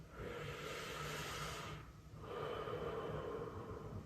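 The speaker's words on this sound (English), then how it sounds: "briefly inhale and fill the side with your breath" A person takes a deep breath in, filling the sides of the trunk, heard as a steady breathy rush for about a second and a half, then a short pause and a second breath.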